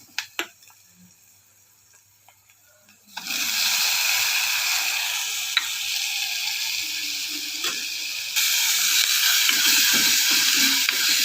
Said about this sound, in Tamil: நல்லா வதங்கி அது மெல்ட் ஆகிற மாதிரி வதங்கட்டும்